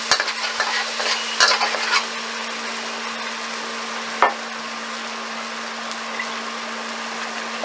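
Oyster sauce is stirred into a frying noodle dish, a steady close sizzle with a few scraping stirs and one sharp clack of utensil on pan.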